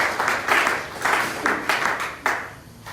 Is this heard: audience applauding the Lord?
yes